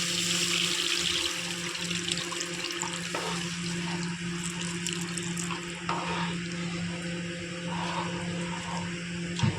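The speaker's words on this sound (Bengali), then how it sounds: "আমি জল দিয়ে দিলাম।" Water pours into a cooking pan of spiced fish and potato curry, a continuous splashing gush with a steady hum behind it, close and fairly loud for nearly ten seconds.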